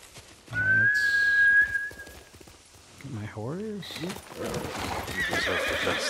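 A horse in the video game Ghost of Tsushima answers a whistle with a loud neigh, then clip-clops nearby, with speech overlapping the hoofbeats.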